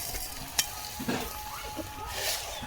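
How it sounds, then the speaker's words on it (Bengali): A spoon scrapes and stirs tomato chutney with sugar in a pan over the heat, gentle sizzling underneath and irregular scraping strokes close by. "চিনিটাকে দিয়ে খুব ভালো করে নাড়িয়ে চাড়িয়ে 2 মিনিট জাল দিয়ে নামিয়ে নেব।"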